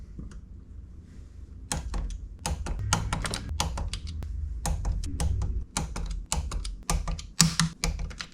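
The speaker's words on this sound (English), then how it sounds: "So now I'm going to torque them, and we're going to do it in the same order, 9 foot-pounds or 108 inch-pounds." A torque wrench tightens the cam caps on a 2007 Honda CBR600RR motorcycle engine, with a close, busy run of sharp ratcheting clicks in uneven bursts and no voices.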